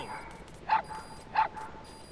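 Puppy in the game Metal Gear Solid V gives two short, bright yips about half a second apart, fairly close and clear over a low steady background hum.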